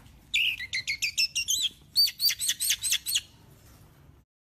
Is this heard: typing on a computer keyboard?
no